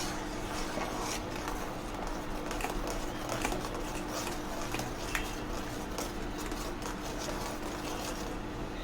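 A ground mustard and pepper medicinal paste is stirred in hot sesame oil in a pan, giving a continuous sizzle with soft scraping and clinking of the spoon against the vessel throughout.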